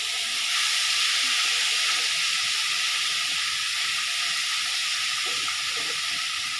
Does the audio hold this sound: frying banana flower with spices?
yes